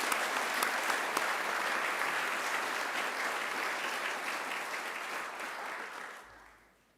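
A graduation ceremony audience gives a speaker a dense, steady round of applause lasting about six seconds, full and even at first, then fading out toward the end.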